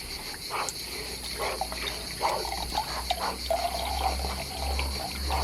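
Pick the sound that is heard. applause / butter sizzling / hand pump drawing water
hand pump drawing water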